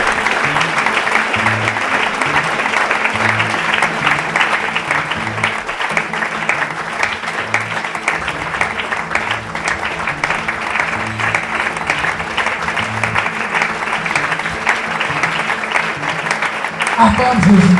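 A church congregation applauds steadily for a long stretch, with clapping layered over rhythmic music and voices throughout.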